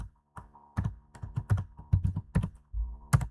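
Computer keys tapped while entering input into a program, irregular clicks and clacks in quick uneven bursts, close and distinct with no talking.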